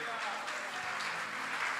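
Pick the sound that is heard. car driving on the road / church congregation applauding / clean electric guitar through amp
church congregation applauding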